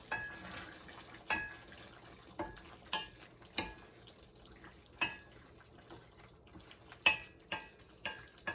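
Korean beef bulgogi in sauce simmering in a pan, a soft low bubbling bed broken by repeated sharp scraping and stirring clicks from a utensil every second or so, fairly quiet and without talk.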